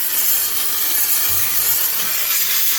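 A handheld steam cleaner blasting continuously, a steady loud broadband hiss with a faint rubbing texture throughout, close and with no talk.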